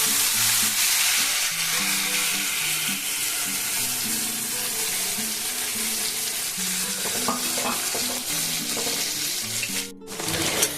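Ground spice paste frying in a pan, giving a loud, dense, continuous sizzle with scattered stirring scrapes, dipping briefly near the end before resuming.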